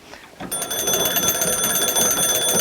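An old party-line crank telephone at a historic call house rings one long continuous ring, a loud metallic bell clatter that starts abruptly after a brief quiet moment and runs steadily to the end, close by with no talk.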